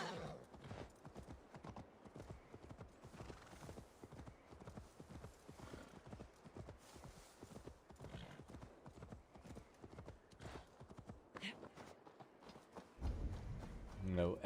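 Horse galloping in the video game Assassin's Creed Valhalla, a steady run of hoof clip-clops with occasional snorts through most of the stretch, under faint game ambience, ending with a louder rumble.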